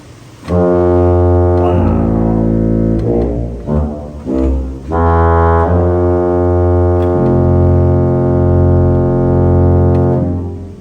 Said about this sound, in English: We have a 16-foot trombone.